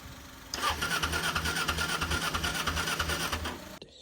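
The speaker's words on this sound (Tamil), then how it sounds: "இன்ஜினும் வேலை செய்த, ஆனால் ஸ்டார்ட் வரல" A Kawasaki ZR 250 twin-cylinder motorcycle engine turns over steadily for about three seconds with a rhythmic, pulsing churn that never catches, then stops abruptly. The cranking is loud and close, with no voices.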